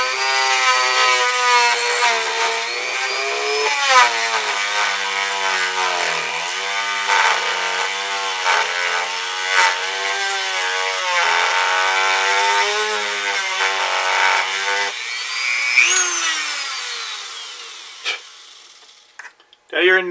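A Dremel rotary tool grinds into a gun stock, a continuous high whining buzz with shifting pitch as the load changes, close and loud for about fifteen seconds before tapering off.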